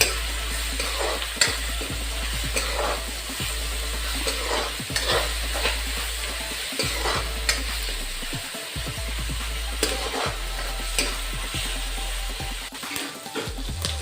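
Finely ground and chopped onions fry in oil in a pan, a continuous close sizzle broken by regular scraping stirs of a spoon over fourteen seconds, with no voices.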